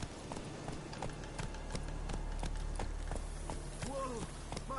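Roach, the horse in The Witcher 3, gallops with rapid, rhythmic hoofbeats, close and steady, while voices talk over the run.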